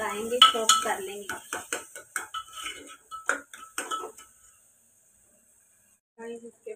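Potatoes with chili, black pepper and garam masala are stirred in a cooking pan for aloo methi, making a run of sharp clacks and scrapes from the utensil. A voice is heard briefly at the start and again at the end.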